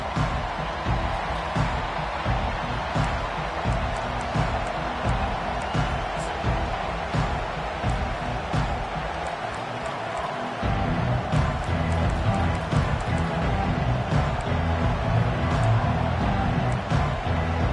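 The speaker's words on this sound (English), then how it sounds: "They challenge this crowd to bring the energy, and I'd say they're doing that." Dense stadium crowd noise at an Ohio State Buckeyes season-opening football game, a steady loud roar of cheering and shouting that swells slightly toward the end, with no clear talk over it.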